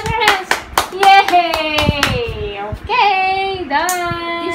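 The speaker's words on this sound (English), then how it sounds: "Now you clap your hands." Child clapping hands, a run of sharp quick claps at the start and a few later, heard under an adult singing and talking to the child.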